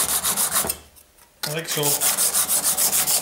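A cabinet scraper rubbed back and forth on the rough side of an oiled sharpening stone: steady, rhythmic rasping strokes, close and fairly loud, with a brief pause partway before the scraping resumes.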